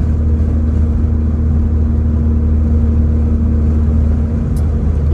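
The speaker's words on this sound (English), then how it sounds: "this vibrant exhaust sounds awesome" A 1994 Honda Prelude with an aftermarket Vibrant exhaust, heard from inside while driving: a steady, loud, droning engine and exhaust rumble with a constant low hum and no change in pitch, and no one talking.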